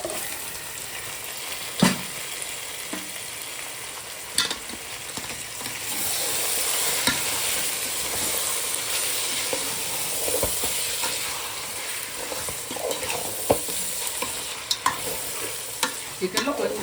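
Masala being stirred and fried in a pot for chicken biryani: a steady, loud sizzle and hiss with occasional scraping knocks of the spoon against the pot, and no voices.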